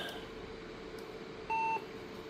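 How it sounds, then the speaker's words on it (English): A single short, clean electronic POST beep from an Epson Equity I PC during a boot test, a steady tone lasting about a quarter second over a constant low machine hum, with no talking. "Get our beep code again."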